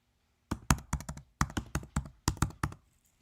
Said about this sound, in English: Now let's just type in the password